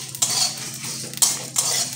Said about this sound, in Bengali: ওই গরম কড়াতে আমি এবার সর্ষেগুলো একটু নাড়াচাড়া করে নেব